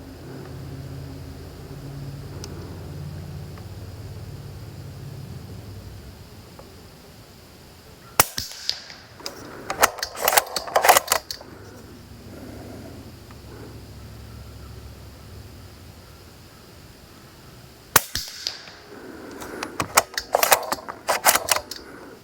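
Two separate volleys of rifle shots at a 50-yard target, each a tight cluster of several sharp, loud cracks in quick succession, with a quiet outdoor range between them.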